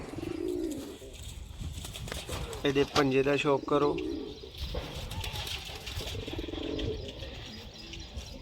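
A Sialkoti high flyer pigeon coos in a throaty, pulsing burst close to the microphone, standing out clearly in the middle. Someone talks over the bird before and after the coos.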